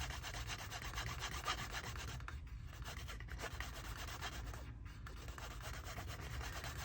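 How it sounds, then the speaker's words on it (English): Piece of canvas rubbed back and forth along the edge of a leather minimalist wallet, a continuous close friction rasp with brief pauses between strokes, quiet and steady with no talking. "This time though, I'm going to use a piece of canvas. Do the same thing, rub it back and forth."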